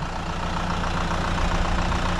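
A farm tractor fitted with a plough runs in a field, its engine a steady, loud, close rumble with no break.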